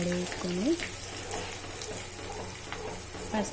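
Dried red chilies and crushed garlic tempering in hot oil for gongura pappu, giving a steady close sizzle and crackle throughout with a few brief clinks.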